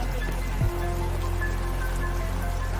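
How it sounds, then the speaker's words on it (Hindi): Rain falls steadily on a mountain trek in Uttarakhand as a dense, even hiss over a heavy low rumble. A brief low swoop breaks in near the start, and no one speaks. "और अचानक से बारिश स्टार्ट हो गई।"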